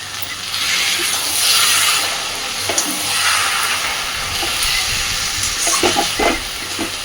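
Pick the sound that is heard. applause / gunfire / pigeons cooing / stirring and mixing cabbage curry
stirring and mixing cabbage curry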